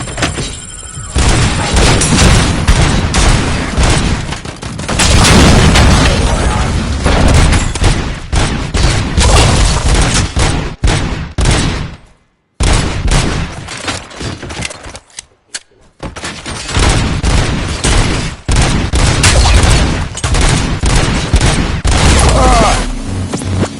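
Video game gunfire in a RoboCop game rattles loud and dense in continuous bursts, with booms and thuds, broken by brief silent gaps midway before the shooting resumes just as heavily.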